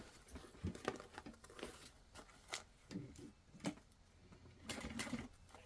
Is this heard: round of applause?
no